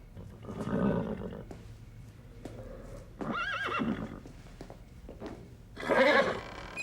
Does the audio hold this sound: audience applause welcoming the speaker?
no